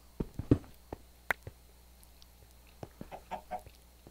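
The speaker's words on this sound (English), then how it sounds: "I hear chickens clucking" Minecraft chickens cluck in a series of short, irregular bursts, fairly close, with quiet background between the calls and no talking.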